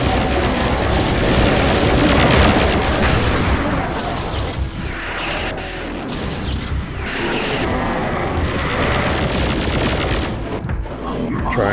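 Loud, continuous combat from Doom 2 (Map 10, Photon Geyser): a dense barrage of rocket explosions and weapon fire with booming blasts, running unbroken for the whole stretch.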